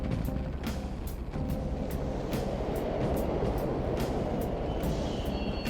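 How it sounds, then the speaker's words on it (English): Subway trains run through a tunnel in the video game Persona 5, a continuous rumbling roar with rhythmic clattering bursts, moderately loud and unaccompanied by talk. "The trains are totally running!"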